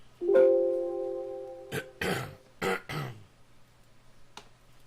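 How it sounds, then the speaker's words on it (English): A man clears his throat with a voiced, rumbling hum that breaks into two or three harsh rasping coughs, close and fairly loud in an otherwise quiet room, with a faint click at the end. "Let me try to clear my throat here"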